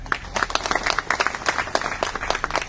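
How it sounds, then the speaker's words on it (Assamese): An audience at a public gathering breaks into dense, steady applause, many hands clapping together at full volume for nearly three seconds with no voices over it. "আপোনালোকে আন্তৰিকতাৰে প্ৰাৰ্থনা জনাই এটা ডাঙৰ হাত চাপৰি দিব"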